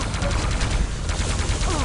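Rapid repeated gunfire in an arena shooter match, a quick loud rattle of shots lasting under two seconds.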